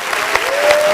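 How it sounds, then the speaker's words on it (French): A live audience at a sound-system themed show claps loudly and steadily in dense, close applause with a faint crowd murmur underneath, cut off after under a second. "un tonnerre d'applaudissements pour Imra"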